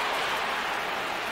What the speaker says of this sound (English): listen to the crowd urging him on